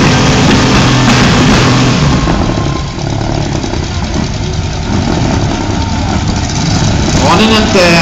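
A six-cylinder car engine keeps running at a demolition derby free-for-all, a loud close rumbling drone that continues without a break while people talk over it.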